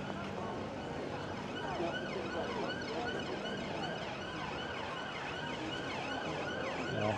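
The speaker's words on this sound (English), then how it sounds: "more sirens going off." Police and emergency vehicle sirens wail continuously through a busy Blackpool street near the tower and tram tracks, with a police van pushing through amid dense traffic and crowd noise.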